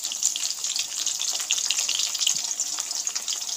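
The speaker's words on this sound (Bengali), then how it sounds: "আলুটা ভালো করে ভেজে নেব" Potatoes frying in hot oil, seasoned with salt and turmeric during a village-style prawn and raw jackfruit dish, give a steady, close, dense sizzle with no voices.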